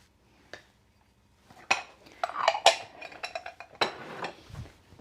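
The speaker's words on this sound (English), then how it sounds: "ground cinnamon, ginger, and baking soda. Let's just mix all these together" Ground cinnamon, ginger and baking soda mixed in a bowl for crinkly ginger snaps, heard as a run of close clinks and scrapes of utensil against the bowl, irregular and moderately loud after a quiet start.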